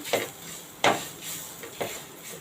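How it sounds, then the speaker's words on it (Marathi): Green chili and grated ginger sautéed in a pan over a low flame, with soft scraping strokes of a spatula at a slow, uneven rhythm over a quiet, faint sizzle, close and moderately quiet. "एकच मिरची घेतलेली आहे आणि थोडासा आला किसून घेतलेला आहे हे पण चांगलं परतून घेऊया"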